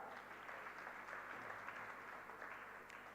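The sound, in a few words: audience applause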